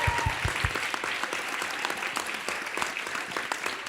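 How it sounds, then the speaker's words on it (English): Audience applause at a global health innovation challenge event, a steady round of dense clapping from a crowd, close and sustained throughout without talk. "let's give a last final round of applause to all the innovators"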